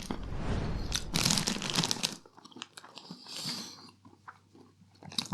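Someone crunches and chews Tesco Salted Caramel Party Mix, with loud, dense bites at first and then quieter, scattered crunching and chewing up close, with no talking.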